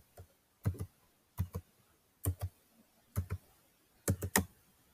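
Short bursts of typing on a computer keyboard while entering button text in Scratch, close crisp key clicks arriving in quick clusters of two or three keystrokes separated by brief pauses.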